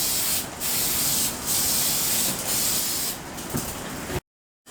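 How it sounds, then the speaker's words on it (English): A spray gun lays a lacquer finish onto a wooden nightstand in steady, loud hissing passes that pause briefly between strokes, then cut off abruptly near the end. "I am going to go ahead and put a lacquer finish on it"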